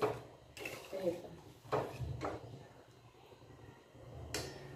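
Utensils clink and scrape against a kadhai while sweet lapshi cooks on low gas, a few sharp metallic knocks spaced apart over a soft background hum.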